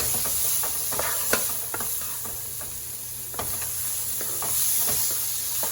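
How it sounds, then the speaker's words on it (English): Adobo seasoning fries in a pot as the base of a Texas-style chili. A steady, close sizzle and hiss runs throughout, broken by a few light scrapes of stirring, with no voices. "I'm just fry this up for a little bit"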